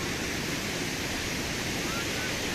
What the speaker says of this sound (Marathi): प्रचंड मोठ्या प्रमाणात हा पूर या ठिकाणी आलेला आपण पाहतोय